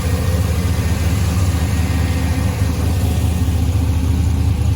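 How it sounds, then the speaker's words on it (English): An LS V8 engine swapped into a 1985 Chevrolet K20 Suburban idling smoothly, a deep steady rumble at constant speed, loud and close. "So this is it idling. Runs fairly smooth."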